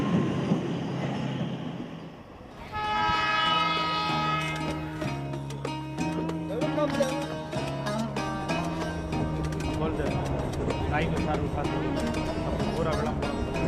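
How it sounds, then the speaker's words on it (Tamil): An electric train rumbles and rattles past, with a steady roar, repeated clatter of wheels and a rising tonal hum from the motors. "அதிகாலை தடதடக்கும் ரயில் ஓசையில்"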